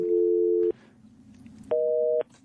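Two steady telephone tones, each holding a single pitch and cutting off abruptly, with the second pitched higher than the first, the signal played for a number that has been disconnected, with a quiet gap between them.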